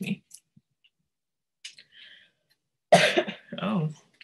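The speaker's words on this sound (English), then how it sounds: "I guess I'm gonna cough for a minute" A person coughs a few times during a meeting, short harsh bursts separated by silence, with brief clicks and a throat-clearing, close and fairly loud.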